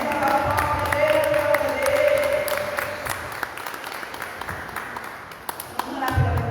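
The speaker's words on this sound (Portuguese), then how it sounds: "Uma salva de palmas para Deus" A church congregation applauds in praise of God during a worship service: steady, dense clapping sustained throughout, with voices and tonal sounds mixed in beneath.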